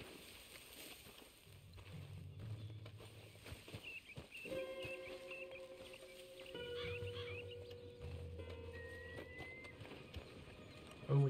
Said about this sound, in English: We got some horses up ahead.